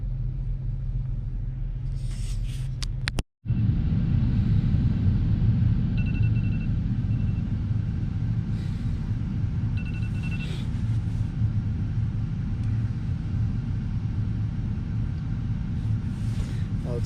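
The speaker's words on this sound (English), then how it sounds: "I turned my car on like 15 minutes ago to get some heat." Car engine idling while it warms up on a cold early morning at a trailhead, a steady low rumble with a brief dropout near the start, heard up close and continuous.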